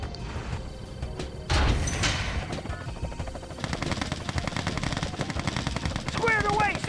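Rapid machine-gun bursts and crackling gunfire from Red Alert 2 units, dense and continuous with a heavy boom early on, mixed with game voice lines spoken over the shooting.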